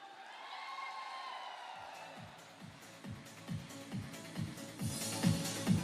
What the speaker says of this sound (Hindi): अब अपना प्यार जरा तालियों के रूप में एक बार फिर से पहुंचा दीजिए एवरीवन